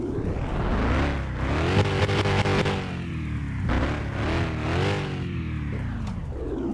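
A Coyote engine in the Car Mechanic Simulator game revs in a series of loud, close swells, climbing and falling several times with a gritty, growling tone, no talk over it.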